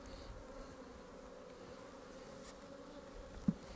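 Honey bees hum in a soft, steady buzz around an opened hive during an inspection, with one brief knock near the end.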